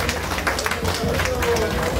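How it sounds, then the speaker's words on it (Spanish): Guests at a baptism party applauding the godparents, a mix of clapping and crowd noise with voices mixed in. "a ver, que se escuche el aplauso de los padrinos, que se escuche el aplauso"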